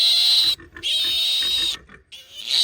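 A piglet squeals loudly and shrilly during castration, in long piercing close cries broken by short gaps, with people's voices partly audible underneath.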